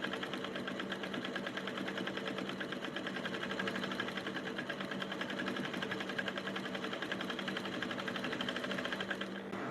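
A sewing machine runs steadily, stitching a straight seam on a button-up shirt; the motor's close, continuous whirring hum holds without a break for the whole stretch.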